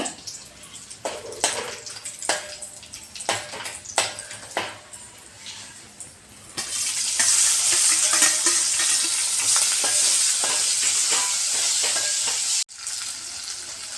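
Green chilies and a small onion go into a hot pan. Sparse stirring and scraping clicks give way to a loud, steady sizzle of frying close by, which cuts out briefly before resuming.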